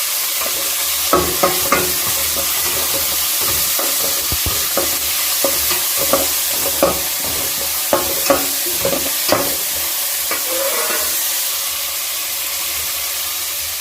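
Onion, curry leaves and fennel seeds frying in oil make a constant close sizzle, broken by a series of sharp scraping stirs of a spoon against the pan at an irregular pace.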